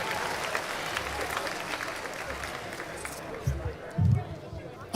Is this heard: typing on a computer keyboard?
no